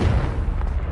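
A Confringo blasting spell explodes in Hogwarts Legacy, a single short, deep booming burst with a rumbling tail, loud and close.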